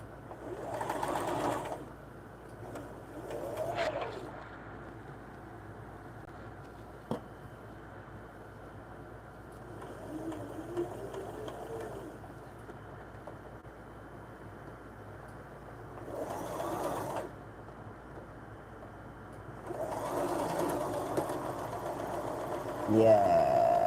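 Sewing machine stitching a seam in a few short whirring bursts, fairly quiet and close, spaced apart over a low background hum.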